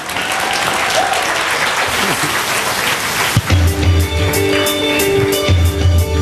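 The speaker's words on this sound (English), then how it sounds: "A giant round of applause for Nick French." Loud, dense applause from a comedy club audience fills the room for a comedian finishing his set, steady throughout. Partway through, a hum sets in and a voice speaks over it near the end.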